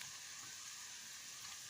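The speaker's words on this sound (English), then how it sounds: "I'm going to add the diced mushrooms to the pan." Diced mushrooms fry in a pan of butter and olive oil, giving a faint, steady sizzle with a soft crackle and no voices.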